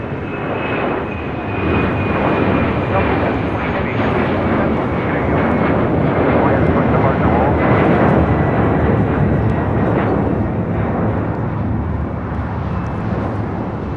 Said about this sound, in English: This is Delta Airlines 720 taking off to Atlanta on a 767-400 ER.